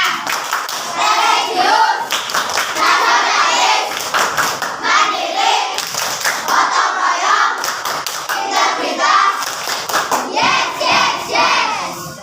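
In a classroom, schoolchildren perform the Tepuk PPK clapping routine, patterned bursts of clapping alternating with chanted voices. The loud, close claps come in rhythmic groups throughout.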